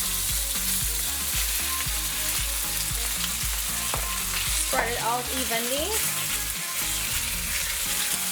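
Teriyaki chicken pieces fry in hot oil in a wok with a steady, loud sizzle, broken by rhythmic stirring and scraping throughout and a short spoken remark midway.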